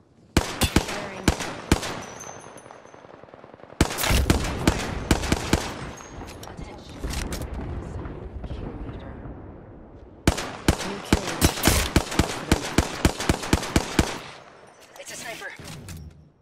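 Gunfire in the video game Apex Legends, rapid automatic bursts of loud, sharp shots in three long volleys separated by brief pauses.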